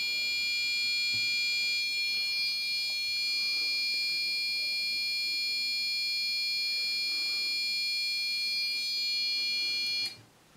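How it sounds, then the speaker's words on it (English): Piezo buzzer driven straight from a flip-flop output in a digital tone generator circuit, giving a loud, steady high-pitched electronic tone that holds unbroken for about ten seconds before cutting off abruptly. "take the output of the flip-flop and wire it straight into the buzzer"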